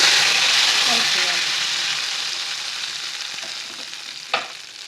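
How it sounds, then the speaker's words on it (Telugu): A hot tempering of mustard seeds and cumin is stirred into a batter of sour buttermilk for ponganalu. A loud sizzle slowly dies down, and a single sharp clink of a utensil comes near the end. "తాలింపుని ఇందులో వేసి కలుపుకోవాలి"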